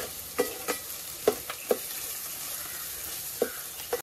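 Garlic roasting in a pan for a Konkani-style vaghli fish curry, a soft, low crackle of frying broken by a handful of sharp scraping stirs of a spatula at irregular intervals.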